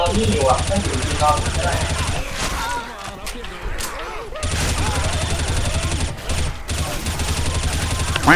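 Gunfire in Left 4 Dead, with dense, rapid bursts of shots rattling on loudly for several seconds and a short lull in the middle, while players shout and talk over it.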